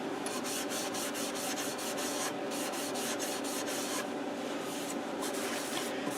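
A turned catalpa wood bowl being sanded, a steady close abrasive rubbing that continues without a break, with rhythmic strokes and brief pauses in the scraping.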